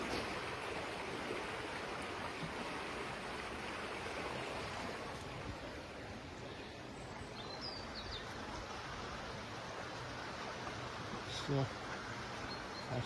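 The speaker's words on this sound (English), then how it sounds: "This is the river running down." A river flows past old iron works at Mells, a steady broadband rush of running water filling the whole stretch, close and continuous, with a brief faint knock near the end.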